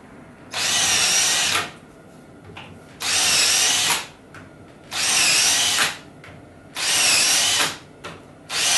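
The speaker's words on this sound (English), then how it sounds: "I won't make you watch the tedious drilling of all the holes for the shelf pins" A power drill bores shelf pin holes into a wooden kitchen cabinet, four loud bursts of about a second each separated by short pauses with quieter handling noise between, close and without talk.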